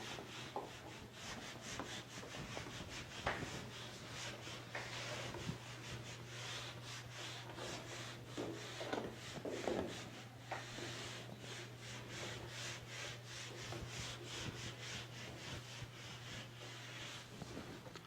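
Writing rubbed off a board during a maths lesson, a long run of soft, steady scrubbing strokes over a constant low hum, close and fairly quiet, with no talking.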